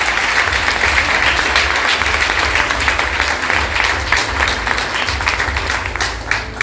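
A church congregation applauds together in a dense, loud, sustained wash of clapping that fills the room throughout.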